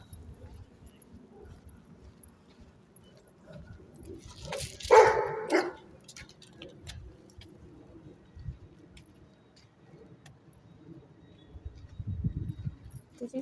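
A big black dog barks outdoors during a morning walk, a short loud cluster of barks midway with quieter sounds of people and birds around it.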